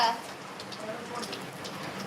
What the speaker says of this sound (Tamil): மழை தானே வருது